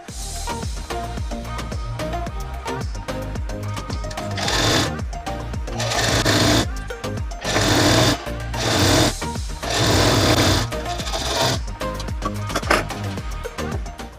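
A sewing machine runs in long continuous bursts while stitching the folded half-inch finishing hem of a wrap blouse, its loud rapid needle clatter speeding and pausing between runs.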